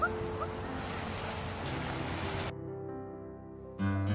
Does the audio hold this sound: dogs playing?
yes